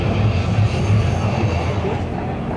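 A 450 horsepower Pratt & Whitney radial engine driving a large Hamilton Standard propeller on an aerobatic airplane at an air show roars in a loud, steady, throbbing drone with no pauses.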